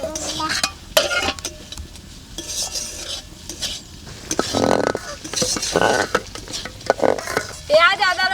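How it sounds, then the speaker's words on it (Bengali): Onion with ginger and garlic paste fries in mustard oil, stirred with a utensil that scrapes and clinks against the pan over a soft sizzle. The stirring comes in uneven bursts, close and fairly loud. "পেঁয়াজ আদা রসুন ভালো করে নেড়ে নিয়েছি।"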